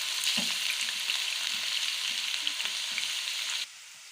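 Onions sizzle and crackle loudly in hot oil while frying for kadhi pakora, with a brief stir at the start, before the frying suddenly drops away near the end.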